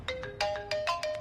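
A mobile phone ringtone plays a bright, chiming melodic pattern of short repeated tones, fairly close and clear, with no voices over it.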